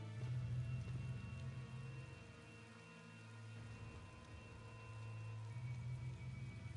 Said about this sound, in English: You sure you want to be standing out there in the rain?